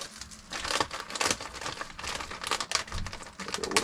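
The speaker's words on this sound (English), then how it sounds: "we're gonna go and pull some of these stickers off the bag, or at least the parts that are loose" Stickers being peeled off a plastic all-in-one mushroom grow bag, a close, continuous crinkling and tearing of plastic in uneven bursts, with no talking.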